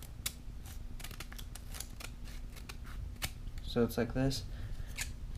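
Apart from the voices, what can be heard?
scissors trimming a folded piece of paper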